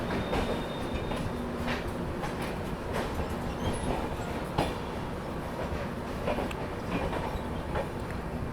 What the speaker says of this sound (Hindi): अपनी ट्रेन मधुपुर जंक्शन से भी अब डिपार्ट कर चुकी है।